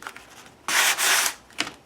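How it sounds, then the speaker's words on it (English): Sandpaper scrapes paper on a mixed-media collage in a couple of quick strokes, one long rasping pass followed by a shorter one, close up and crisp. "I'm going to take the sandpaper to it"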